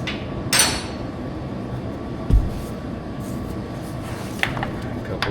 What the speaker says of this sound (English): Couple taps.